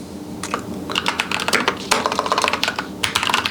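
A computer keyboard being typed on at close range, quick clustered keystrokes in uneven bursts with short pauses between, clear and alone without speech.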